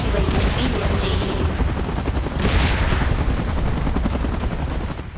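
A helicopter's steady, loud rotor roar fills the whole stretch during a Godzilla vs Kong event in the PUBG Mobile video game, with a broad rushing wash throughout.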